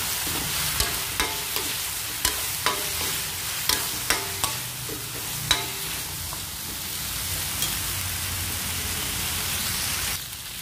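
Pinakbet vegetables frying in a pan as okra goes in after the squash, a steady close sizzle broken by a dozen sharp scrapes and clacks of the stirring spoon, quieter toward the end.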